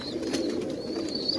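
A pigeon sitting on its eggs in a household pot gives a soft, low continuous coo, close and moderately loud against a quiet indoor background with no talking.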